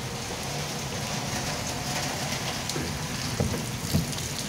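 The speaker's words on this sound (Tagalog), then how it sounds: "Malakas ang patak ng ulan sa mga bubong ng bahay." Heavy rain pours steadily onto house roofs on a wet morning in Taguig, a dense, even hiss that fills the whole stretch with a few louder drips near the end.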